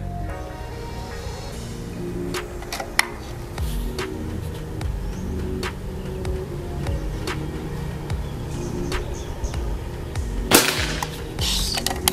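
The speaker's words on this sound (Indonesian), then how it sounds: "Tembakan ke 4." A PCP air rifle fires its fourth shot during an accuracy test, heard as a sharp crack among intermittent mechanical clicks and handling noise over low background rumble.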